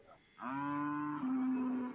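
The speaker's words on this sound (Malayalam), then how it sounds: "ഈ ഭാഗത്ത് നിൽക്കുന്ന മൂരി പശുക്കുട്ടി പോത്ത് എരുമ ഇതെല്ലാം ഈ ഭാഗത്തുണ്ട്" A bovine lows once, long and loud, at close range in a buffalo and calf market where bulls, calves and young buffalo are penned; the steady moo drops slightly in pitch midway and carries on with no talk over it.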